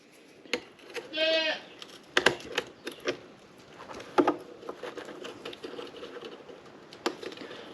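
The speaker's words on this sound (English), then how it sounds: "Yeah, I hear you, goat." A goat bleats once in a short, quavering call, moderately close, surrounded by sharp clicks, taps and rustling from a workshop.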